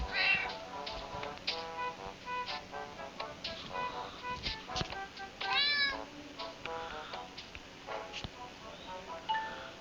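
A cat meows repeatedly in the mobile game Scary Teacher, a series of short, close, fairly quiet mews with some rising and falling calls over faint game clinks and ambience.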